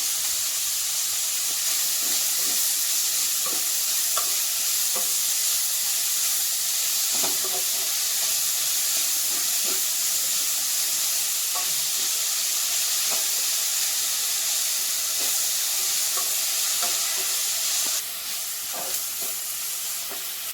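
Onions and shallots frying with salt in a pan, a steady loud hiss and sizzle filling the whole stretch, with occasional soft spatula taps and stirring scrapes underneath.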